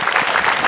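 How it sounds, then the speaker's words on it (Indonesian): An audience claps for a woman at a religious gathering, a dense, steady burst of many hands that stays loud and even through the whole moment. "Tepuk tangan buat Mbak Caca juga."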